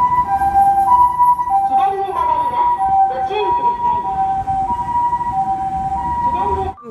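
A toy ambulance siren wails continuously in a steady electronic two-tone pattern, loud and close, cutting off abruptly at the end.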